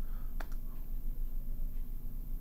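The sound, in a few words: right click on Mac trackpad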